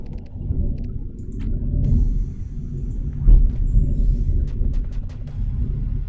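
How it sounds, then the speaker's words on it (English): Thunder in the video game Horizon's Gate rolls as a continuous low, distant rumble, swelling briefly into a heavier boom midway before settling back into a steady grumble, with no voices over it. "You guys hear that thunder in the background?"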